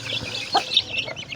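A mother hen with her brood of sixteen or so newly hatched chicks gives a few soft, close clucks alongside faint high chick peeps, one brief louder call standing out in the middle.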